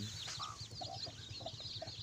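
Chickens with hens and young chicks cluck softly in a coop, with scattered short calls and chirps over a low steady background hum.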